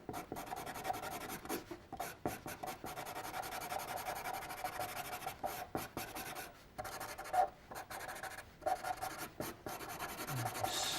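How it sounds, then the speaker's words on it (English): White pencil, the third of the trois crayons, rubbing highlights onto paper in a painting-and-drawing session: continuous close scratchy shading strokes with short pauses between bursts, no talking. "that's where I'm going to now use my white pencil, the third of the trois crayons"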